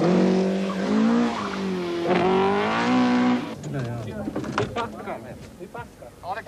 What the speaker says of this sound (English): Stig Blomqvist's Talbot Sunbeam Lotus arrives on the scene to be slowed by the marshals